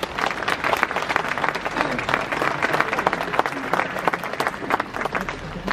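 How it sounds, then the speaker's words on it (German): An audience at a jubilee New Year celebration bursts into sustained, dense applause, many hands clapping loudly and evenly for several seconds with a faint murmur of voices beneath. "können wir auch nochmal klatschen"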